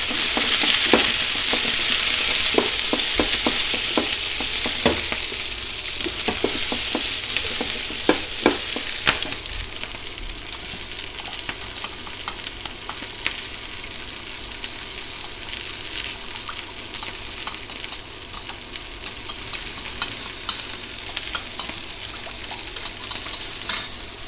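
Vegetables are stir-fried in a hot pan with a steady, loud sizzle, spoon or spatula clattering rhythmically for the first several seconds before the frying settles into a continuous hiss.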